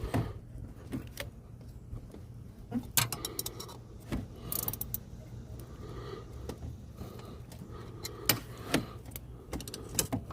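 Torque wrench clicks and metal clinks as the water pump bolts are tightened on a GMC Denali, sparse close ratcheting and tapping over a low background hum, with no speech.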